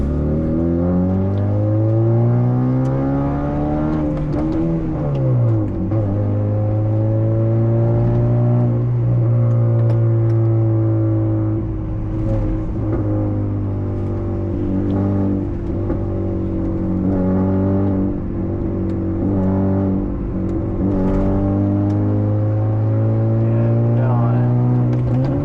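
A car with a newly modified, louder aftermarket exhaust idles and revs repeatedly, a deep droning engine note rising and falling in pitch, loud and close throughout.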